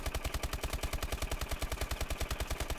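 ASM1 Strider gun in Advanced Warfare firing in rapid automatic bursts, an even, fast rattle of shots with a deep thump on each round, loud and continuous.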